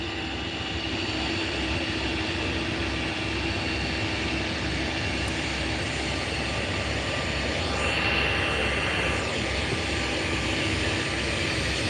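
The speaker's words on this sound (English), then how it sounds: "That is one big ass plane." A large airplane taxiing in to park gives a loud, steady engine roar and whine that swells slightly toward the end, close and continuous without a break.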